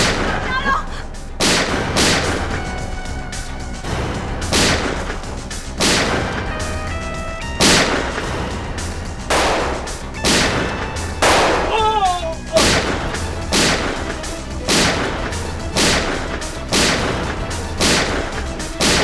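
Repeated sharp gunshots crack out at irregular intervals, about a dozen loud bangs spread across a long exchange of fire in a TV crime drama scene.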